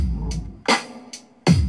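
Hip-hop drum loop with crisp hi-hat ticks between kick and snare hits, quick short metallic taps in a steady pattern, loud and close.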